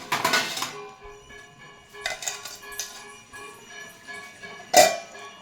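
Metal cookware clatters near a frying pan as a lid is handled and set over it, several sharp clinks and knocks separated by quieter gaps, ending in one loud clank.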